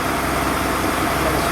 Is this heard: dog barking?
no